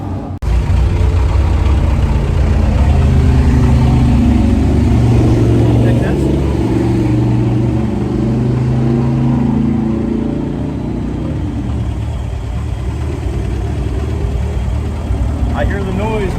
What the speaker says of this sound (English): Little glow plug action, and then a whole bunch of smoke, and a rough idle, and then he smooths out